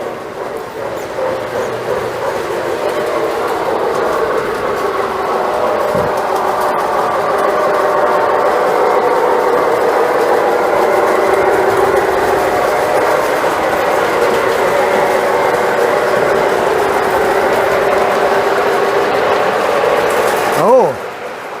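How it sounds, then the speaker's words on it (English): An HO-scale-style model railroad steam engine runs continuously on a layout, a steady mechanical rolling hum with faint clicking, holding at even loudness for about twenty seconds before a brief louder swell at the end. "Oh, there's the steam engine."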